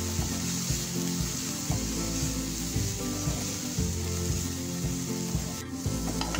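Spices with garam masala, amchur and a little salt sauté over medium heat in a pan, making a steady, close sizzle with occasional soft stirring scrapes and no talking.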